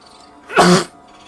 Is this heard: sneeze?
yes